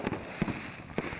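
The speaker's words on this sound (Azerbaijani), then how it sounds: "Təntənəli konsert proqramı atəş və şanlıqla yekunlaşıb." Fireworks closing an outdoor concert in Sheki, heard as four faint, spaced bursts of crackling pops over quiet background within a second or so.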